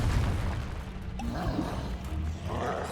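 Confringo explosive spell going off in the Hogwarts Legacy video game, a dense rumbling boom with crackling bursts and low roar sustained loudly over about three seconds.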